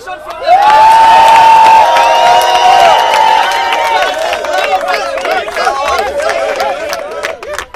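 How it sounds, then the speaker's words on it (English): A large crowd cheers and celebrates outside a house, loud and continuous, with shouting and whooping voices blending into a sustained roar that eases slightly toward the end. "as you can hear the celebration from the crowd."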